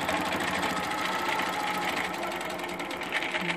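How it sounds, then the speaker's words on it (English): A sewing machine stitches curvy crosshatching in a steady, fast, continuous whir with a fine rapid needle rhythm, close and even throughout, no voices present. "Now, we're going to stitch this way."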